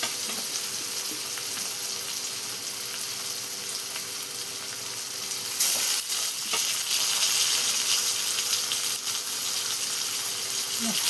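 Bitter gourd, washed and precooked, hits a hot pan and sizzles loudly and steadily, a dense frying hiss that swells and grows brighter partway through and then holds without a break.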